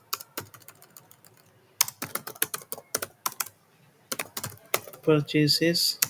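Fast clicking keystrokes on a computer keyboard while an SQL query is typed, coming in rapid bursts separated by short pauses, with a brief stretch of speech near the end.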